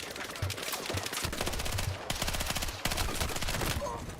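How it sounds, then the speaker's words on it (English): Rapid bursts of M4 rifle fire in a Battlefield 6 firefight, a dense run of sharp automatic shots repeating across the whole stretch with brief gaps, loud and close. "Just some guy shooting me off of a head glitch with an M4"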